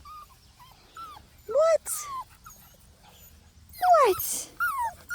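Seven-week-old puppies at early-morning play let out high, thin whimpers and yips in short scattered bursts, close by, with someone briefly speaking over them.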